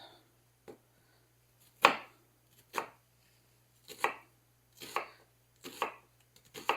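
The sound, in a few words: chopping onions and potatoes with a knife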